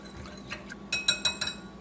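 A whisk stirs baking soda into distilled water in a glass, making a few light, quick clinks and taps against the glass wall, close and fairly quiet.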